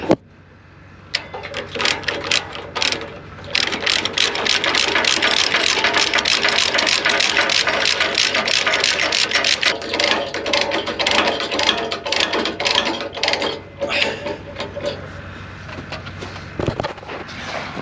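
A ratchet binder cranks tight on a loose load chain securing a water truck, a fast, steady run of metallic clicks close by for about fifteen seconds, with a few pauses near the end.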